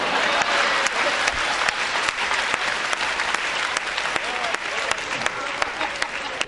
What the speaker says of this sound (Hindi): बात अच्छी लगे तो करतल ध्वनि जोरदार होनी चाहिए